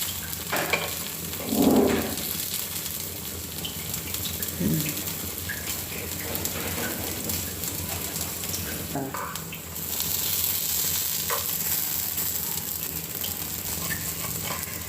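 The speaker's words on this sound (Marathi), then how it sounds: "आता आप्पे टर्न करून घेऊया, म्हणजे दोन्ही साईडनं भाजून घेऊया" Appe dumplings are flipped in an appe pan and fried on both sides, with a steady sizzle, a few scraping turns and clicks of the utensil against the pan, and a louder burst of frying partway through.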